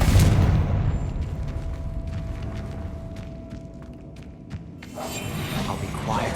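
An explosive Confringo spell blast in Hogwarts Legacy erupts loudly at the start, followed by a decaying rumble, scattered sharp pops and a renewed swell of blast noise near the end.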